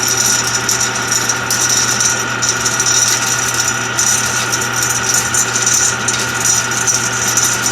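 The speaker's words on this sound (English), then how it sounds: "I'm not sure about this fan motor that's on here. It seems to be making quite a bit of noise." An old fan motor on a restored 1959 Axeman Anderson 130 coal boiler runs loud and close with a constant rattling hum and a steady low drone.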